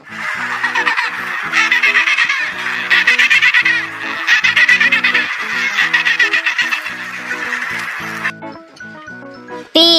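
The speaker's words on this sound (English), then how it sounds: "penguin" Loud, harsh penguin calls in a continuous braying, honking series carry a strong pulsing rhythm for about eight seconds, then stop and give way to a brief higher call at the end.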